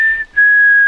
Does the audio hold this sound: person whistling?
yes